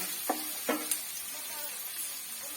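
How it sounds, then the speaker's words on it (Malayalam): Sliced onion and coconut pieces sautéing in a pan for a jackfruit seed stir-fry, giving a steady close sizzle with a few soft stirring scrapes. "നീളത്തിലരിഞ്ഞതാ ഒരു സവാള. അതും കൂടെ ഒന്ന് വഴന്ന് വരട്ടെ ചെറുതായിട്ടൊന്ന്."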